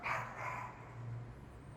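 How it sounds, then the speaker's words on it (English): A dog barks twice at a distance, faint and short, over a low steady background hum in an outdoor waterside setting. "There's a dog barking."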